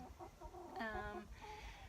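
Backyard chickens cluck softly in a short burst, with one louder drawn-out cluck in the middle, heard at close range over a faint outdoor background without speech.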